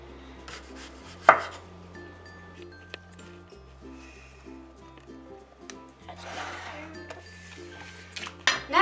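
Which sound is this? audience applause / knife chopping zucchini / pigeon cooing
knife chopping zucchini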